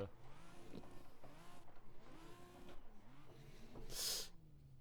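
A drifting car engine in the Assetto Corsa racing game revs and falls in repeated surges, with tyre squeal rising briefly near the end, moderately loud with no talk over it.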